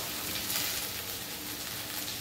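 Pumpkin and potato pieces frying in oil in a pan, a steady soft sizzle heard close up and alone, even in level throughout.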